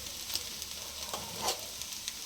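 Cooked rice tipped into a hot pan for Telugu-style egg fried rice, frying with a steady close sizzle and a few soft scraping stirs, no voices.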